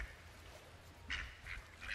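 Ducks quack in The Lost Crown video game, three short nasal calls spaced through the second half over a low ambient rumble, moderately near and without talk.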